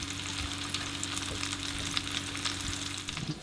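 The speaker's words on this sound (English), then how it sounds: "Shallow fry." Panko-crumbed herring shallow fries in a pan aboard an anchored boat, a steady soft crackling sizzle with scattered pops, fairly quiet and close, under a low constant hum.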